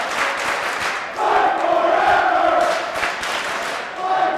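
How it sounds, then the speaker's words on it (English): A wrestling crowd at a New Jersey Championship Wrestling opening-day show cheers and roars loudly and continuously, swelling as a sustained wall of voices without any distinct speech. "Hear that crowd!"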